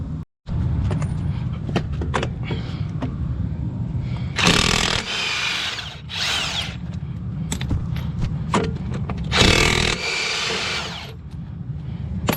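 A Makita power tool rattles in short bursts loosening wheel nuts on a semi truck's rear wheel, with two longer loud whirring spins standing out amid clanks and shop noise.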